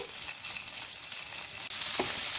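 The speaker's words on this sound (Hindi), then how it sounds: "अब इसी तेल में 2 मीडियम साइज के प्याज डाल देंगे कटे हुए।" Chopped onions, two medium ones, sizzle steadily in hot oil in a home kitchen pan, a close, continuous hiss with a few faint stirring scrapes and no talk.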